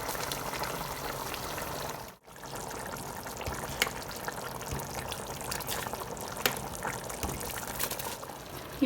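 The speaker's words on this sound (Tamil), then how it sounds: "இப்போ நம்ம ரைஸ் போட்டுக்கலாம்." Cooked rice poured into a biryani pot of beef and lemon, a continuous soft pattering rustle of falling grains with a brief pause partway through.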